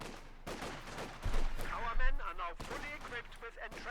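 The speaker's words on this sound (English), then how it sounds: "Bit of shooting, bit of skirmishing." Gunfire and skirmishing in Company of Heroes 2, with MG42 machine gun fire and infantry shooting heard as scattered bursts and cracks under continuous talk from a commentator.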